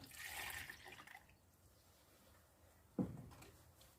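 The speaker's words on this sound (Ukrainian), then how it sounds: "Я його перелюшу для зручності. Перелю його сюди." Liquid rooting stimulant poured into a container, a quiet gurgling splash at the start that trails off, then a brief knock near the end.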